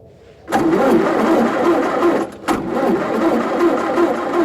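A car engine cranks and struggles to catch after a sudden start of the starter, cuts out briefly, then cranks again with a steady mid-pitched churning that never settles into a clean idle.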